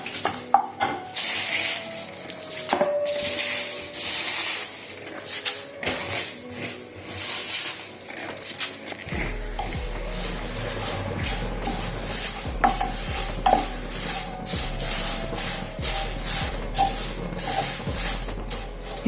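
Dried curry leaves dry-roasting in a pan, stirred with repeated scraping and rustling strokes, crisp crackling over a steady background, close and moderately loud, no talking.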